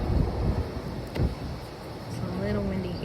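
Gusty outdoor wind buffets the microphone with low rumbling blasts that rise and fall throughout, and a few faint tonal sounds come through near the end.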